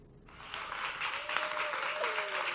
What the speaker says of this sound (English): please give a round of applause to our two nominees, Hillary Clinton and Donald Trump